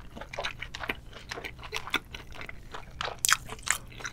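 Close crunchy bites and wet chewing of a scallop dipped in tartar sauce during a Korean seafood boil meal, repeated rhythmic crunches with a few sharper bites near the end.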